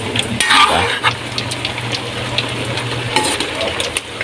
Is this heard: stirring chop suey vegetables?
yes